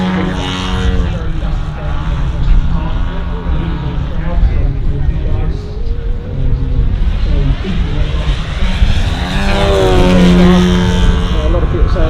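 A radio-controlled CARF Chipmunk model aircraft flies at the Weston Park model air show, its engine droning steadily and rising in pitch as it passes, under continuous talk from nearby voices.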